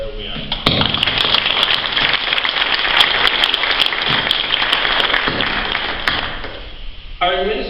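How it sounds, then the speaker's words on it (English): An audience claps loudly at a village State of the Village address, a dense, sustained burst of applause that carries nearly to the end before giving way to a voice. "hopefully we'll applaud for him loud enough that he'll hear us wherever we are"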